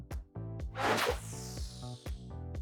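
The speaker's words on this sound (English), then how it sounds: "pitch down noise with some whooshes completes the picture" A whoosh effect in a sound design piece, a quick swishing sweep near the start followed by a long fading tail, set over a dense layered bed of pitched, rhythmic tones.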